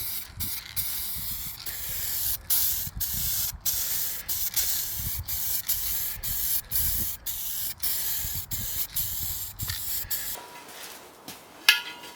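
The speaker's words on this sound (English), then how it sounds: "I applied thin coat of zinc paint and then some black paint" Rattle cans spraying zinc and then black paint onto custom BBS-style RC wheels, close pressurised hissing in repeated short bursts with brief gaps, ending in a quieter stretch with a small clunk.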